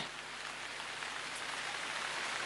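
Steady rain falls in a dense, even hiss of drops, continuous and fairly soft, with no voices.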